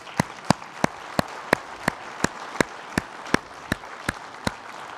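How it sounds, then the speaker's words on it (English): Evenly spaced, crisp claps ring out about three times a second from a conference audience, sounding like a slow, steady rhythmic clap rather than a dense ovation, with a faint room hum underneath. "I think Jess deserves another round of applause."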